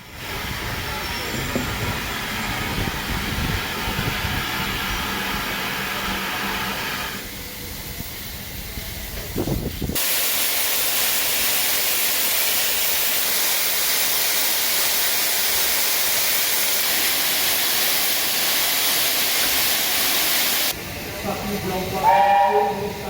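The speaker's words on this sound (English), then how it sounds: "here's another one of those big express engines. This time it's Leander again." Leander, a big express steam locomotive at a heritage railway gala, releases a loud, sustained hiss of steam for about ten seconds, preceded by rumbling train noise and a brief squeal, with the hiss cutting off abruptly near the end.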